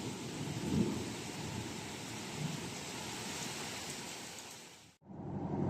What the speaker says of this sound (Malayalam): നല്ല മഴയാണ്, അത്യാവശ്യം നല്ല മഴയാണ്.